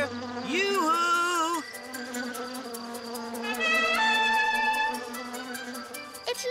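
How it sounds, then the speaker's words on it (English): Cartoon bees buzzing in a steady, fairly loud drone with wavering, sliding tones through most of the stretch, a brighter musical shimmer joining partway. "It looks like the bees are too busy to listen to Mr. Giraffe."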